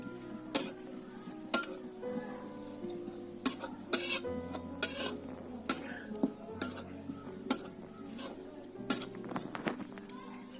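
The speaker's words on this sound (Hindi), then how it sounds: "सबसे पहले हम इस कढ़ाई में नारियल को भून लेंगे" Grated coconut roasts in hot ghee in a kadai while a spoon stirs and scrapes the pan, giving repeated metallic clinks over a soft sizzle, with a steady low hum underneath.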